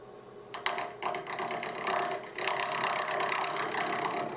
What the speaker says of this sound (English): the first thing I'm doing is just boring the hole in the end to attach the coffee scoop